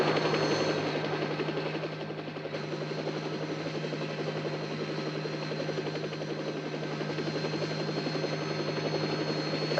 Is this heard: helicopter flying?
yes